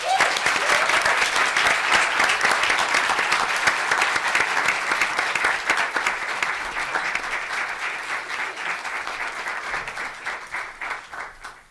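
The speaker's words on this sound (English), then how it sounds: "So if we can all give Meredith a round of applause." An audience at a law school evidence competition gives its coordinator a round of applause, sustained dense clapping near and loud that slowly thins and fades toward the end.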